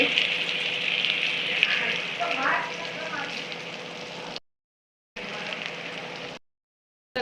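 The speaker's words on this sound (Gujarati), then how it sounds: "કડકડી થાય ત્યાં સુધી આપણે તળાવવા દઈશું" Red and green chilli rings frying in hot oil, with a loud continuous bubbling sizzle that cuts out briefly twice, with faint voices underneath.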